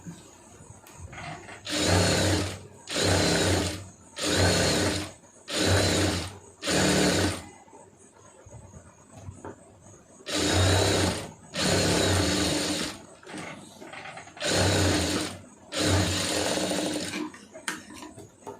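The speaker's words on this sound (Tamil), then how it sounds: "சின்ன தையல் வச்சுக்கிட்டு சுற்றி ஓட்டிடுங்க" Sewing machine stitching a small running seam around the joint of a large blouse sleeve, heard as loud motorised bursts of two to three seconds each, five in a row, a pause, then four more.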